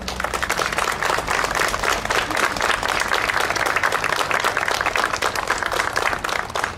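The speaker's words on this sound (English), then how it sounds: "Round of applause to Gary for the dedication of uniform." Dense, steady applause from a parade crowd, many hands clapping continuously and loudly outdoors with no pauses.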